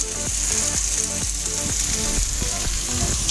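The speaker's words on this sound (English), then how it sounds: "a little oil, some onions and carrots." Onions and carrots fry in oil in a pan, a steady close sizzle with repeated rhythmic scraping of a utensil as they are stirred, no voices.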